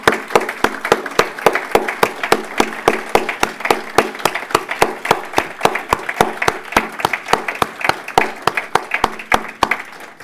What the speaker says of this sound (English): we can give them a round of applause and start